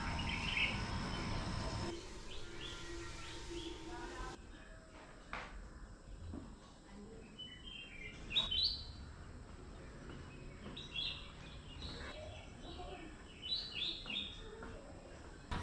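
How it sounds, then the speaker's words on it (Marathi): Birds chirp and tweet at a distance against a quiet morning backdrop at a homestay near Awas beach, Alibag, with a faint insect drone underneath. "पक्ष्यांचे आवाज आहेत आणि खूप शांतता आहे"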